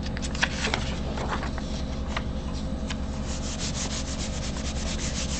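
Paper being rubbed with baby oil on a grayscale coloring page, a steady close scraping and rubbing sound with no speech.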